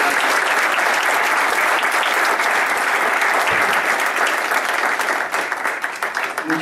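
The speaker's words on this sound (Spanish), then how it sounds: "aplausos para todos" A full audience applauds at a book presentation on Napoleon and his empire in Monterrey, the clapping loud, dense and sustained before thinning slightly near the end.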